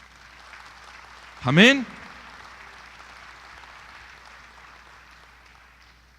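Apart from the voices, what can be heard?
applause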